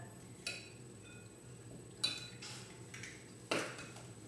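A spoon knocks against a bowl while eggs are stirred into brown sugar and butter for blondie batter, three or four distinct clinks spaced about a second and a half apart over a quiet background.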